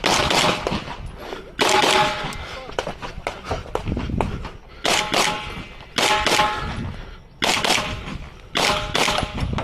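An MPA DS9 pistol fires during a USPSA match stage, with loud, close shots in quick clusters separated by short pauses and voices heard between strings.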